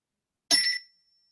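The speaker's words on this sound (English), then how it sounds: "Take us out with the bell." A single bright boxing bell ding rings out once, close and clear, fading quickly into silence.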